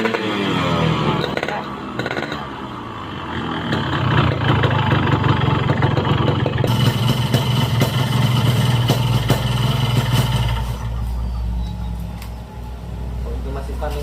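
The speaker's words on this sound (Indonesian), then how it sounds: "Oke guys, ini suara knalpot." A 1997 Yamaha RX King two-stroke motorcycle idles through its exhaust, a loud, close, rattling burble that holds steady and then drops lower near the end, with people talking over it.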